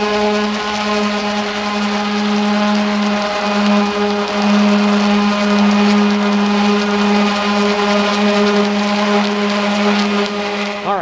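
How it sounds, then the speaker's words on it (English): A palm sander smoothing the hull of a used boat, giving a steady, loud electric whine with a constant pitch, running without pause throughout. "what I'm going to do here is just demonstrate on how I do the palm sander to get it right"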